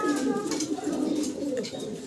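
A racer pigeon held in someone's hand gives soft, low coos. The cooing runs steadily through the clip with some faint background noise.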